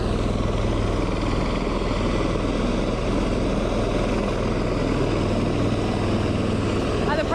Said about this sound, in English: And Marine One is moving, getting ready for takeoff.